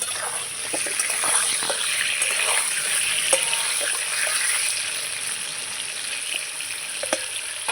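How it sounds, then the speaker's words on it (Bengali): Potatoes frying in a covered pan being stirred, a steady close sizzle with faint scraping and light clinks, no voices. "ঢাকাটা তুলে নেব আলুটা আমি আর একবার নেড়ে দেবো"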